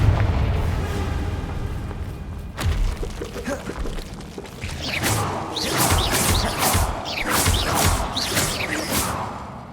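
Confringo blasting spell cast in Hogwarts Legacy, a sharp crack followed by a series of rapid fiery bursts and crackling debris, loud and close, with no talk.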